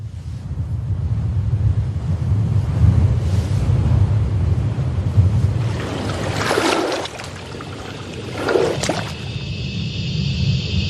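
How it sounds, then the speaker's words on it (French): Strong wind over 50 km/h roars steadily into the microphone in hot Australian crocodile habitat, with gusty low rumbling and bursts of buffeting, and no voices. "le vent qui souffle à plus de 50 km/h"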